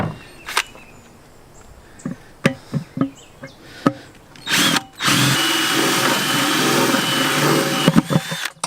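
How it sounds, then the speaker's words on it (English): Several sharp knocks and clicks, then an electric drill whirs steadily for a few seconds as it bores through a plastic 5-gallon bucket, ending with a few more taps. "now we got to drill another hole"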